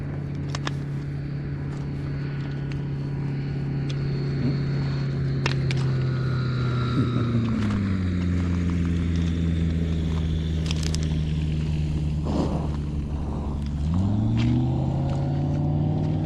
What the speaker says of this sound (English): There's a plane coming down.